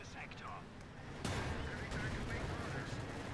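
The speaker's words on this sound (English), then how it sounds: "Artillery being called in once more with Findeed to slow down Kusanagi's advances" Artillery barrage in the Company of Heroes 2 strategy game, a sharp blast at about a second in followed by continuing rumbling booms and crackle, fairly loud against a busy battlefield bed.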